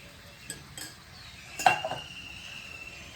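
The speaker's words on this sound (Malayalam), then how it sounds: "അത് നല്ല ഹൈ ഫ്ലെയിമിൽ ഇട്ടിട്ട് തന്നെയാണ് ഞാനിപ്പോൾ ഇളക്കി കൊടുക്കുന്നത്" Papaya and jaggery being stirred in a pan over a high flame, a few faint utensil scrapes and clinks against the metal with a slightly louder burst of clatter midway, no voices.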